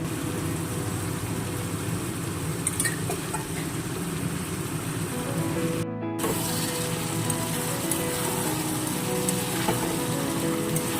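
Potatoes sautéing with chicken liver in a pan, a continuous rain-like sizzle that holds steady and cuts out for a moment before resuming, with no talk.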